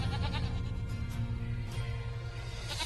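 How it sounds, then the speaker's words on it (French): Several goats bleat repeatedly, close and loud, over a continuous busy background. "Des chèvres, encore des chèvres et encore"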